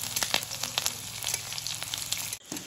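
Panch phoron, bay leaf and chopped green chilli fry in hot oil for a samosa filling, a close, dense sizzle with crackling pops that stays loud and continuous.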